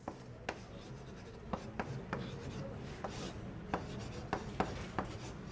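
Chalk or marker writing on a board during a calculus lecture: faint scratching strokes with sharp taps at irregular intervals, quiet and close in a room.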